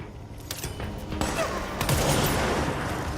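Sniper gunfire in the video game Control, a series of sharp cracks and booms amid a dense, rumbling firefight that swells louder midway, with no speech over it.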